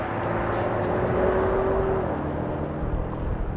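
A 2025 BMW M5 super sedan on the move, its steady engine rumble and road roar droning continuously at close range, with a brief rising whine near the middle and no talking.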